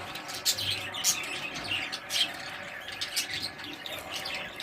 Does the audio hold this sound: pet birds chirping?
yes